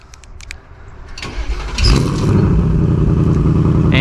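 A 2024 Ford Mustang Dark Horse Premium with active quad-tip dual exhaust fires up close by: a brief starter whir, then a loud burst as the engine catches, settling into a steady, rumbling idle.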